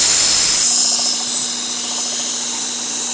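A Work Sharp powered sharpener grinding a chef knife, a loud steady motorized whine with abrasive hiss, briefly stronger at the start before settling into an even drone.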